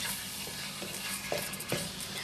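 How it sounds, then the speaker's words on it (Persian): Chicken fillets sautéing with onions in a pot over high heat for a Persian green plum stew, with a steady soft sizzle and a few scraping stirs of a utensil, no talking. "فیله ها رو با پیازا تفت میدیم"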